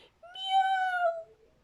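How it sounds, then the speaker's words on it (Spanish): A scared cat lets out a single drawn-out, whining meow that rises and then falls, clear and close against near silence. "¡Miau! Lloriqueó Gato asustadizo."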